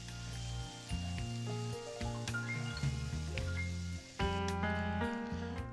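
Food sizzles steadily as it is sautéed in a pan with tomato puree, a close, continuous frying crackle sitting under louder tonal music throughout.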